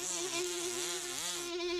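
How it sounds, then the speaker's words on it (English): A steady, insect-like buzz drones continuously with a slight wavering pitch, close and unbroken, with no voices. "When the bees flew, so did the carpet."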